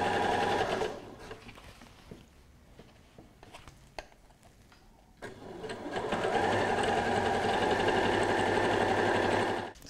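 Sewing machine stitching cushion panel pieces together in short bursts, then a long steady run of rapid, even stitching, close and loud with no talking.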